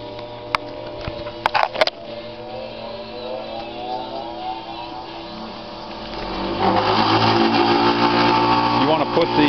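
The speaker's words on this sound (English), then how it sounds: "bench grinder." A cheap bench grinder grinds a rocker arm from a 6.5 diesel engine for a Harland Sharp rocker arm modification. A steady motor whine builds into a louder, harsher grinding rasp partway through, with a voice talking over it.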